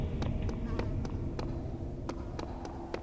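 Running footsteps in Serious Sam 3, a series of sharp, evenly spaced taps at a quick trotting pace over a constant bed of game ambience.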